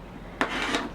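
A rotary cutter slices along a ruler to trim quilt half square triangles, giving two short, close scraping strokes over a quiet background.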